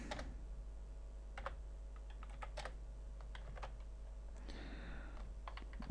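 Computer keyboard typing while writing code, a steady run of sharp key clicks in short bursts, close and fairly quiet, with no voices.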